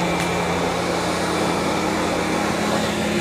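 A Roborock Q5 Pro robot vacuum with its mopping pad attached cleans a kitchen floor, giving a steady, continuous whirring hum with a low motor drone that stays even throughout, with no talking.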